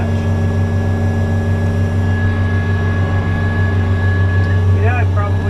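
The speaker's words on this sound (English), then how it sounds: "we're going to go ahead and unhook the power quick attach for you. True hydraulic power quick attach." The diesel engine of a 2022 Kubota SSV65 skid steer drones steadily and loudly at idle throughout, with a constant hydraulic whine layered over it as the power quick attach is unhooked.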